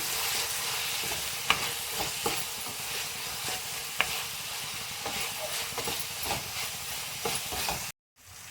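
A mushroom curry base with red chili powder fries in oil under steady sizzling, while a spoon scrapes and taps the pan in repeated stirring strokes, cutting off abruptly near the end.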